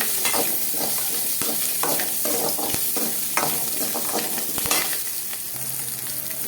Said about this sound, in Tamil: வெங்காயம் போட்டு நல்லா வணங்கணும்